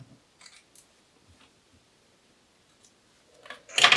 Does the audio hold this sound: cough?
no